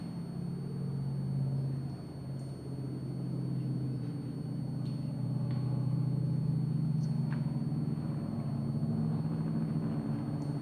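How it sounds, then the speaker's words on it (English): NASCAR racecars lapping Silverstone circuit, a steady engine drone that stays fairly constant and somewhat distant, with no talk over it. "So the NASCAR's still doing one or two more laps just before they finish"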